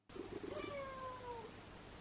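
A single cat meows once, loud and close, a drawn-out call with a rising then falling pitch lasting about a second, with no talking around it.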